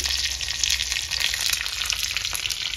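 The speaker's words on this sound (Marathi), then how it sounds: "आपण आता तडका तयार करतोय।" Tadka tempering spices sizzling hard in hot oil for an amla and chana dal chutney, a steady, close, bright crackling fry with small pops throughout and no voices.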